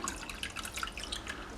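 Liquid cleaning solution trickles and drips into an ultrasonic cleaner already holding hot water, a faint, steady patter of small splashes.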